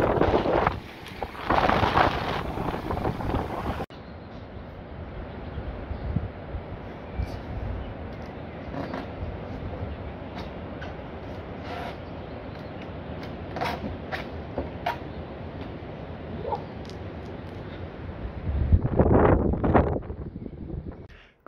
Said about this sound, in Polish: a tak wieje